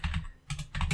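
Fast typing on a computer keyboard during a database backup session: two quick bursts of close, clattering keystrokes separated by a short pause, with no voice over them.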